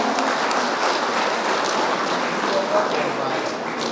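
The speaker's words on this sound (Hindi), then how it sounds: "आप लोग का जोरदार तालियां बजते रहना चाहिए" An audience at an International Labour Day celebration in Pasighat keeps up a steady wash of applause, dense and continuous for several seconds, with a voice faintly underneath.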